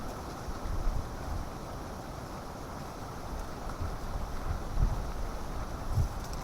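Strong wind blows across a campsite in a cold, rainy night, a continuous rumbling roar buffeting the microphone with a few heavier gusts and no voices.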